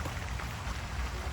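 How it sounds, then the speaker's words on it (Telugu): Steady rain falls outdoors in Canada, a continuous dense patter of drops on surfaces, close and even, with no talking. "వర్షం పడుతుంది"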